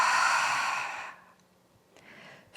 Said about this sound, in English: Take a full expansive inhale. And an audible exhale.